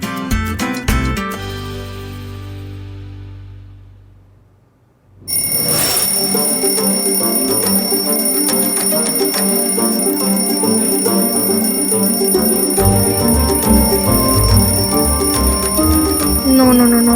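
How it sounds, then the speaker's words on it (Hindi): An alarm clock rings loudly, a brief chime and then a harsh, continuous metallic bell that keeps going without a break for more than ten seconds. "अगर ये अलार्म बंद हो गया तो ये उठने से रहा। कोई बंद करो इस अलार्म को।"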